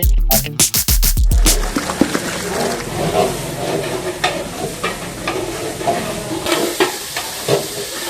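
Duck curry stirred and sizzling in a pot over a village wood-fired clay stove, with loud close scraping at the start giving way to steady frying hiss and intermittent stirring clatter, no talking.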